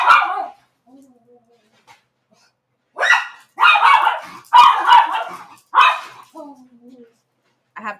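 A dog barks and yips close by in a home, several loud sharp bursts in an uneven cluster after a single opening bark, with quiet whimpers between them.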